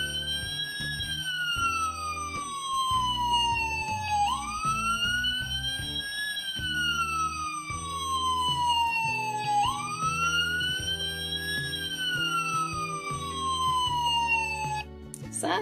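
Cartoon fire engine sirens wail in a repeating rising-and-falling sweep over a looping musical backing, steady and prominent, cutting off just before the end.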